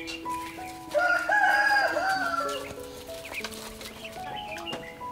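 A rooster crows once, loud and fairly near, in a rural home setting, with a few clucks and chirps around it.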